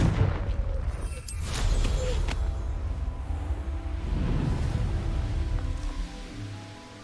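Blast of the Confringo fire spell in Hogwarts Legacy: a loud, rumbling explosive burst with crackling debris, followed by a second deep boom and a rolling, fading roar, heard without any voices.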